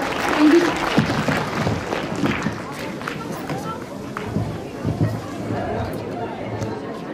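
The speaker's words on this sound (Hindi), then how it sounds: "तो प्लीज तालियों से वेलकम करें सर का।" Clapping from the audience at a school annual prize-giving function as the guest is welcomed, a moderate spread of applause mixed with chatter, shuffling and nearby voices throughout.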